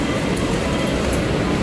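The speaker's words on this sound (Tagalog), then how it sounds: "So pasahin na tayo ng tren." A Manila MRT train runs at speed from Pasay, giving a loud, steady rolling rumble and hum from inside the car with no one talking.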